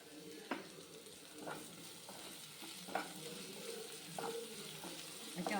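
Ginger and garlic frying in a pan, with steady sizzling and a few spaced scraping stirs of a spoon, moderately close, no talking over it.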